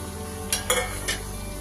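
Fried paneer pieces are gently stirred into a cauliflower, capsicum and potato curry, with a soft background sizzle and a few quick utensil scrapes and clinks in the pan.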